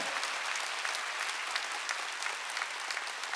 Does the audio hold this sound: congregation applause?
yes